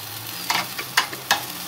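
Flank steak and onion sizzle steadily on a grill, with three or four sharp scraping clacks as the onion is flipped, all close up.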